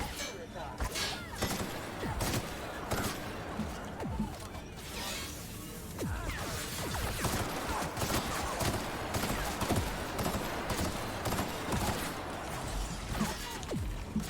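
Gunfire from a gun in the video game The Outer Worlds, rapid bursts and cracking shots layered over a busy, dense game soundscape with impacts, continuing steadily throughout.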